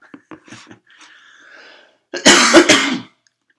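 A rough, raspy cough bursts out in two or three harsh, loud hacks, preceded by a few small throaty clicks and a faint hum.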